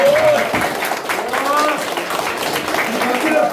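Applause from an audience at a Korean political rally endorsing a presidential candidate, a loud burst of clapping that continues under an amplified voice speaking over it.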